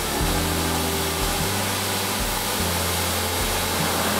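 Belt grinder running on a finer belt while a custom fixed-blade knife blade is finished, a steady loud broadband whir with low hum tones shifting in steps as the steel is pressed on and lifted off; no talk.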